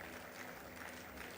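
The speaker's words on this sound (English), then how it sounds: "A big round of applause, ladies and gentlemen." An audience at a graduation convocation for MBA students claps in a steady, dense wash of applause, heard alone for a brief moment.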